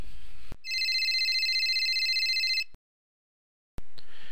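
A telephone rings loud and close in a quiet room, a rapid trilling electronic ring lasting about two seconds, then stops, followed by silence and a soft clunk as it is picked up.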